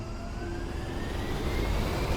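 A-10C twin jet engines spool up for takeoff in the DCS flight sim, holding on the wheel brakes: a steady low roar with a thin whine rising gradually in pitch, sustained and close.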